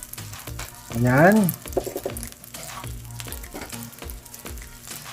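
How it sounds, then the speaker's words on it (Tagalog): Garlic fried rice sizzles and crackles steadily in a hot pan while being mixed, with scraping stir strokes; a short voice speaks briefly near the start. "i-mix lang natin yung ating bawang sa ating rice. Para sa ating gagawing fried rice."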